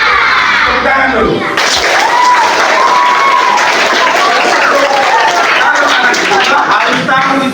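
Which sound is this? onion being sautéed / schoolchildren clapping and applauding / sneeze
schoolchildren clapping and applauding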